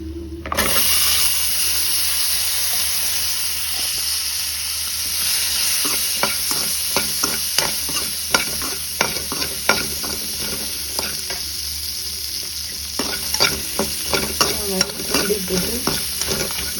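Shallots and garlic sizzle steadily in a pan, with a run of sharp spoon or spatula scrapes and clinks breaking through the frying hiss in the later part; no voices.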